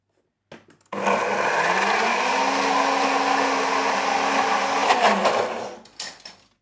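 A blender whirs steadily for about five seconds, blending coffee with oat milk for high-protein tiramisu oats, loud and close with a sharp start and a brief tapering rattle as it stops.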